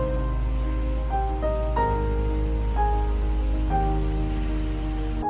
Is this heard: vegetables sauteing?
no